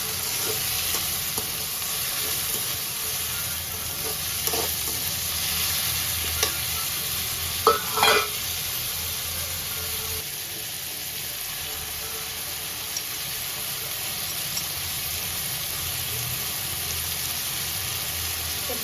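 Steady sizzling of chopped tomatoes sautéing in a hot pan with occasional stirring scrapes and clinks, close by, continuous throughout.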